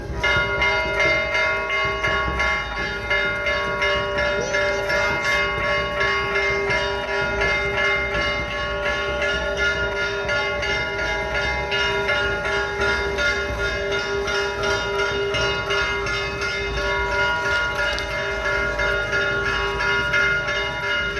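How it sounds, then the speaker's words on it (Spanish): A church bell rings continuously and loudly in a Guatemalan town, Santa María Joyabaj in Quiché, its rich overlapping tones sustained as people enter the church, with no voices over it. "ya está sonando la campana"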